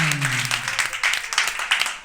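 A brief burst of audience applause, many hands clapping at once, with voices mixed in.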